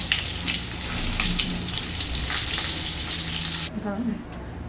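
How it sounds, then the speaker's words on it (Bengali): Pointed gourds deep frying in hot oil in a wok, giving a steady loud sizzle throughout that cuts off sharply near the end, leaving a quieter clatter. "ছাঁকা তেলে এগুলোকে ডিপ ফ্রাই করে নেব এক এক করে দিয়ে"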